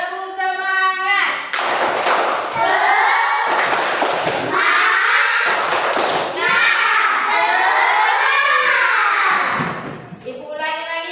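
Schoolchildren in an Indonesian classroom doing a rhythmic spirit clapping chant together: loud bursts of group clapping alternating with shouted chanting voices, with a teacher's voice at the start and end.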